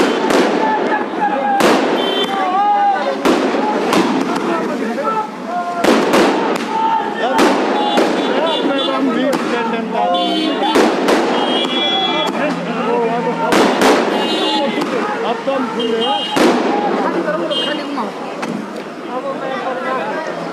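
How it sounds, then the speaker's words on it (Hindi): Fireworks and firecrackers celebrating a Congress party lead in a by-election burst at a town crossroads, sharp loud cracks and pops at irregular intervals over a constant babble of crowd noise and talk. "आप देख पा रहे हैं कि किस तरीके से आतिशबाजी हो रही है"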